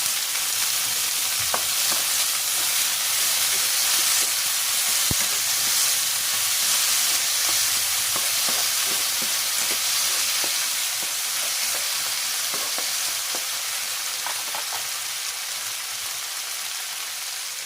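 Tomatoes and garlic fry in a pan for a Filipino ginisang pork giniling with chicharo, giving a steady, close, loud sizzle with occasional soft stirring clicks throughout and no voices.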